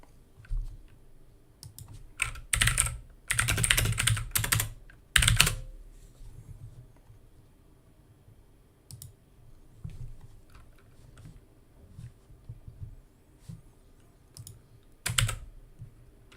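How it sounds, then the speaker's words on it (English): Typing on a mechanical keyboard during a live stream, with rapid clattering bursts of keystrokes separated by pauses and sparse single clicks, close and fairly quiet with no talking. "Are you using a mechanical keyboard? Yes, I am. I know it is quite noisy."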